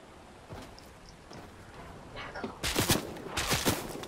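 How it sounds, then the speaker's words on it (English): Gunfire in the Fortnite video game, starting with sparse, faint cracks and then breaking into loud, dense bursts of rapid shots during the second half. "Oh, I'm taking fire."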